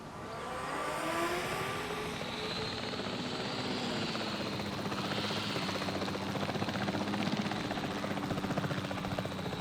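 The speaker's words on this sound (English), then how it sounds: "Let me get the helicopter up." A helicopter in Jurassic World Evolution 3 drones steadily with a broad rotor and engine roar, loud and continuous throughout with no talk over it.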